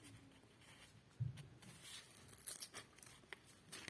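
A small stationery packet torn open by hand during an unboxing, faint crinkly plastic rustling and a short tearing rip, close and quiet with no talk.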